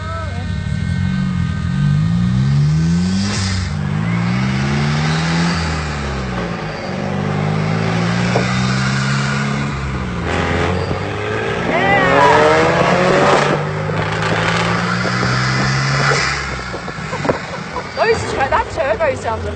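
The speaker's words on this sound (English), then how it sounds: "That turbo sounds amazing," A turbocharged supercar, the Mexican-built VUL, accelerates through Mexico City streets, its engine rising and falling loudly in repeated revving sweeps close to the microphone, with voices talking over it.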